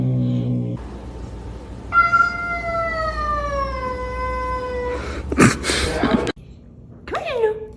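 A cat confronting a dog lets out a long, drawn-out meow that bends downward in pitch, then bursts into harsh yowls and a sharp, rising cry, while a person talks softly nearby.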